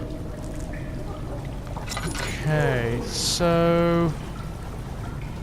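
Water sloshes and splashes in the Amnesia horror game, with a few pouring, gurgling bursts rising partway through as someone talks over the start.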